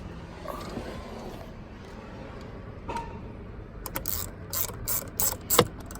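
A ratchet works on the steering wheel airbag screws of a 2008 Honda Civic Si FG2. Faint handling noises come first, then a few bursts of rapid metallic clicking close by, with no speech.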